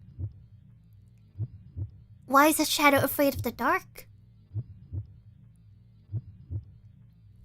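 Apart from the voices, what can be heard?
heartbeat sound in the video game Z.A.T.O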